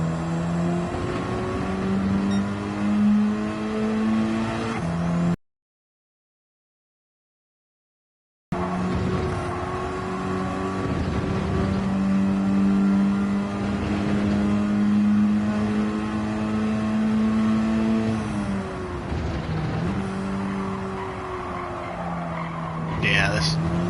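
Car engine in the racing game Gran Turismo 7 drones steadily with shifting revs and tire skids, loud throughout with a brief gap of silence midway.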